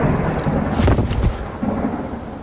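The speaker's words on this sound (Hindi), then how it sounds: "बाहर देखो कितनी तेज तूफान आई हुई है।" Strong forest storm with loud rumbling thunder and steady heavy rain, wind-driven noise swelling near the middle of the stretch and continuing throughout.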